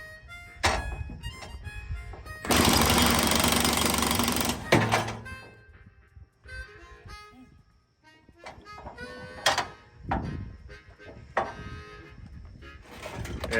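A heavy 1-inch impact wrench working on forage chopper knives, giving one loud, sustained burst of hammering rattle near the start, with scattered clanks, tool handling and shop noise around it.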